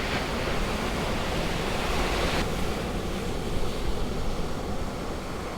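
Ocean surf at Poipu Beach on Kauai, Hawaii, a continuous loud wash of breaking waves mixed with wind buffeting the microphone, with no voices over it.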